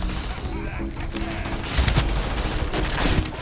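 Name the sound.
fully automatic Keelhauler weapon firing in Starfield video game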